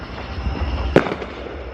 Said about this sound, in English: we have like front row seats to all the firecrackers